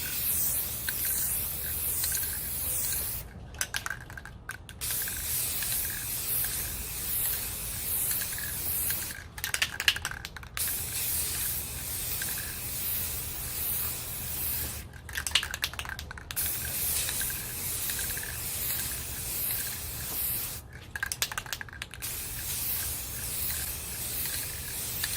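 Spray paint hissing steadily onto a tumbler cup in thin coats, a long close continuous spray broken by four short pauses.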